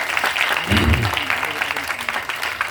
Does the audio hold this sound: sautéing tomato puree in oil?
no